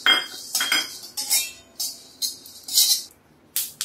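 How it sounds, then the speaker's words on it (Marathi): Melon seeds dry roasting in a pan give off a rhythm of bright rattling, crackling bursts, about one every half second, close and fairly loud with short gaps between. "हे बघा यातून पण मस्त चटचट चटचट असा आवाज यायला लागलाय"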